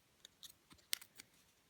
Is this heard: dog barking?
no